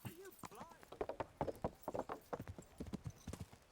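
Horse hooves clip-clop steadily at a brisk gait in the medieval game Kingdom Come: Deliverance, a new mount trotting with dense, evenly spaced close hoofbeats and a brief whinny near the start.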